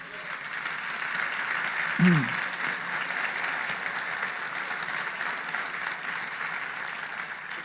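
A church congregation claps in sustained, even applause that fills the whole stretch, with a brief spoken phrase cutting through near the start.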